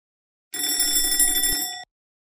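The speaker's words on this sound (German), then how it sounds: "An einem normalen Tag klingelt mein Wecker um halb sieben." A single bright electronic ring, like an alarm bell, sounds for just over a second in otherwise total silence, then cuts off abruptly.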